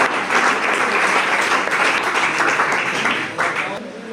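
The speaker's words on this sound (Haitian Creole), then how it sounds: "Exact, on va applaudir Josué." A crowd at a holiday celebration event bursts into sustained applause, dense clapping at an even level for several seconds before easing slightly, with voices mixed in.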